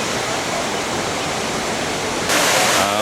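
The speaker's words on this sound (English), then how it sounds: "these are the upper falls." Upper falls of a waterfall at Gooseberry State Park, a loud, steady rushing roar of falling water heard up close, growing briefly louder near the end, no voices.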